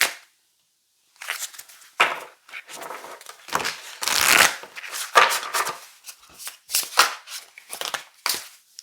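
Tarot cards are shuffled in a series of quick, crisp riffles and slaps, loud and close, with short pauses between bursts.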